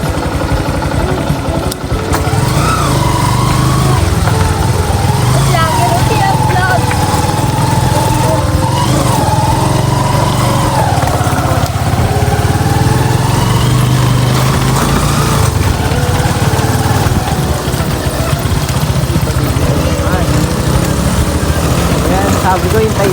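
A motorcycle engine runs steadily and close for the whole stretch, a loud buzzing drone with slight shifts in pitch, as people talk faintly beside it.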